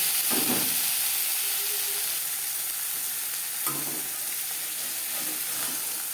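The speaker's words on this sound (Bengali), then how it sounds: "একটা সাইড ভাজা হয়ে গেলে অপর সাইডটা উল্টে দেবো" Fish pieces for a crispy fish fry sizzle in hot oil with a bright, continuous hiss, and faint knocks from handling the pan come through now and then.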